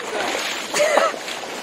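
A person jumps into deep, fast-flowing water with strong waves, making one broad splash and a short burst of sloshing near the middle of the clip over steady rushing water.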